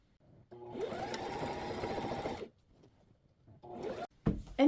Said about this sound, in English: Now we are going to do a top stitch all the way around.